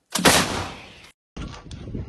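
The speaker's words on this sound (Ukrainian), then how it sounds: "Постріл! Постріл!" An artillery gun fires on a battlefield with one loud, sharp blast that decays over about a second. A second, weaker burst or echo follows after a short gap.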